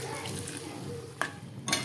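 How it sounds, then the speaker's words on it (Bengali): A little water is poured into a pan of spinach cooking for a vegetarian pumpkin and spinach dish. It makes a quiet, steady trickle with a couple of brief splashes, close by and faint. "সামান্য জল দেবো, খুব বেশি জল দেবো না, অল্পই জল দেবো।"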